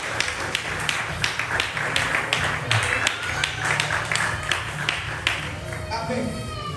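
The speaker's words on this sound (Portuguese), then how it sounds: "Você que pode mais uma vez aplaudir o nome do Senhor Jesus." A church congregation claps in a quick, even rhythm during a service, a steady run of loud synchronized claps with a voice speaking over them before the clapping thins out.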